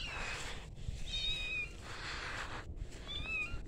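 A young kitten meows twice, thin high-pitched wavering cries close to the microphone, separated by a short pause over faint room noise.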